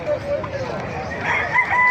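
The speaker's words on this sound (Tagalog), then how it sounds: "Magaganda mga manok." Roosters crow over steady outdoor noise at a gamefowl farm, their drawn-out calls rising toward the end of the stretch, coming from some distance.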